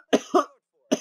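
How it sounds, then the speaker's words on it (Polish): Three short, dry coughs from a man with a slight cold, two in quick succession and then one more after a pause, close to the microphone and otherwise silent. "Jak będę kaszlał, to sorry wam."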